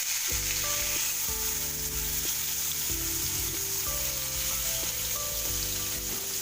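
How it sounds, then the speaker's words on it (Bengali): Steady loud sizzling of rohu fish frying in hot oil fills the whole stretch, with no voices. "এবার আমি মাছগুলো একটা একটা করে ছেড়ে দিচ্ছি"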